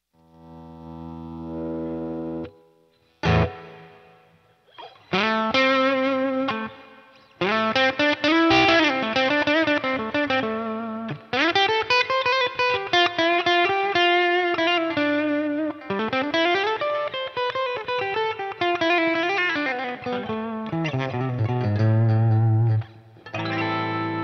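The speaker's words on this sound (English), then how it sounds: "All right, let's hear the reverb." A guitar plays through a Boss Katana amp with reverb engaged, giving a loud run of bent and sliding notes and chords that ring out and trail off between phrases.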